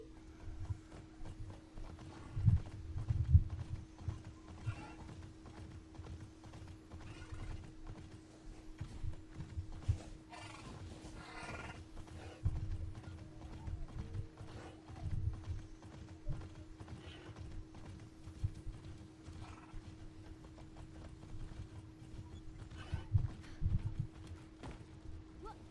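A metal horse in the video game Immortals Fenyx Rising trots with steady clip-clop hoofbeats and breathes with a metallic edge, the rhythm continuing throughout at moderate volume alongside low mechanical rumbles.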